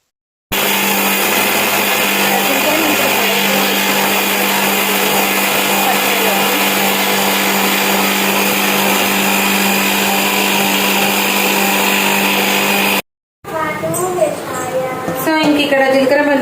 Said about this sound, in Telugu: సో ఇంక ఇక్కడ జీలకర్ర మెంతుల పొడి అయితే పట్టేశాను.